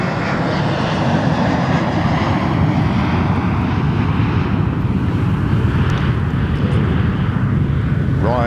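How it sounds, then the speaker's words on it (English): A Ryanair airliner takes off nearby at a golf course during the Open Championship, its jet engines a loud continuous broadband roar that swells and slowly recedes. "Just backing off because an aeroplane's just taking off here."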